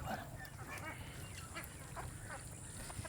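Ducklings on a broiler poultry farm, soft scattered quacks and peeping calls over a low continuous background rumble, fairly faint and moderately distant.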